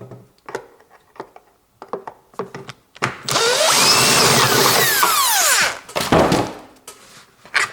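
Power drill backing screws out of a washing machine being taken apart: a few light clicks and knocks, then a loud, steady drill whine lasting about three seconds, followed by more handling knocks.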